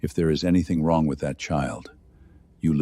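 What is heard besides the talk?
No everyday noise stands out behind the speech.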